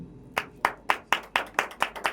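Hands clap in a quick, even rhythm at an award ceremony, about eight sharp claps in two seconds, close and distinct rather than a dense wash of crowd applause.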